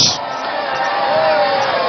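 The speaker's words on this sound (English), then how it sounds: "I think you all deserve a round of applause for yourselves." Crowd cheering and applauding at a Ghanaian presidential address, a broad continuous roar of many voices that stays loud and even throughout.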